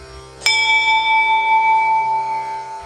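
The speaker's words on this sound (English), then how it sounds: "bells start ringing" A temple bell in India is struck once, then rings on with a bright, sustained shimmering tone that slowly fades over a low background hum.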